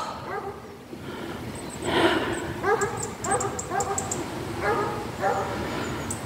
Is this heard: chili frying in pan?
no